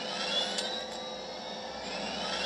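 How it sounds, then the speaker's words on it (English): A steady, broadband engine roar with a high whine, continuous and fairly loud, like jet-like hover engines running and revving up as hover cars line up for a race, with no talking. "That sound is the roar of the engines revving up for the race."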